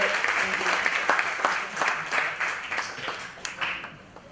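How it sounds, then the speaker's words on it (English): A lecture audience applauds a speaker at a smart city research talk, a steady wash of many hands clapping at moderate distance that slowly fades toward the end, with a voice speaking over it. "Can we please give a big applause to Andre?"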